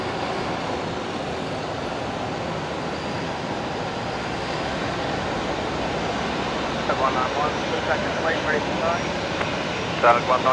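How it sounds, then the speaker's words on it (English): A Qantas jet touching down at Brisbane Airport gives a steady, moderately distant engine roar, with faint scattered clatters and a slight swell toward the end. "There we go, Qantas 73 touching down"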